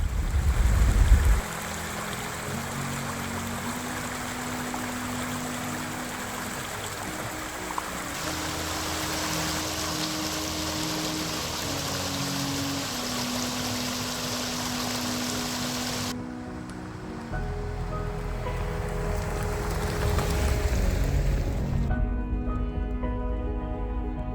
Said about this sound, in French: Le silence de la forêt, avec pour son seul son ses cascades d'eau, est bienfaisant pour nos oreilles